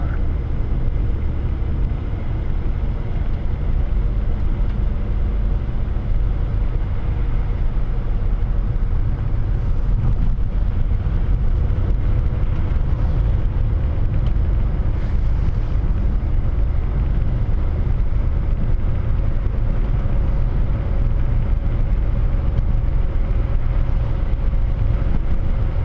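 Steady low road rumble and muffled wind noise from a car driving at 40 km/h on a snow-covered winter road, a continuous even drone with no talk.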